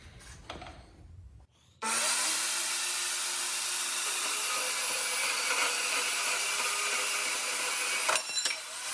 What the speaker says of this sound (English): It's a portable bandsaw with a base.